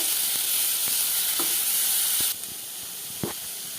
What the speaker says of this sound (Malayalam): ഇനി ഇതിൻ്റെ പച്ചമണം പോകുന്നത് വരെ നമുക്കൊന്ന് വഴറ്റിയെടുക്കാം